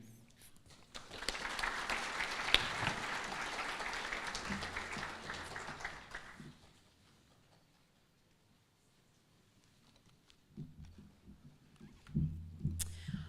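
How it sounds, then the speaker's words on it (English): Audience applause at a graduation ceremony that swells for about six seconds and then fades to near silence, followed by faint low thumps and rustling. "I think we can give it another round of applause"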